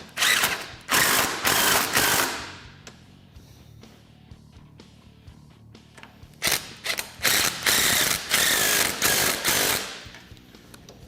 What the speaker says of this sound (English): So now we're just gonna go ahead and fully tighten our caliper.